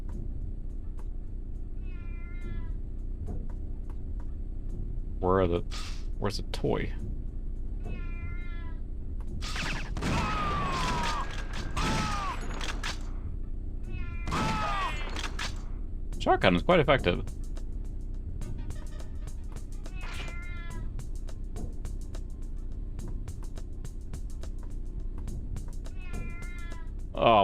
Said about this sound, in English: I hear the stupid cat,